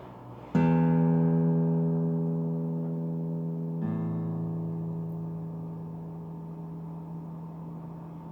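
The sixth string of a Morris MV-701 acoustic guitar is plucked and rings out with a slow decay, then plucked again and left sustaining, close and clear.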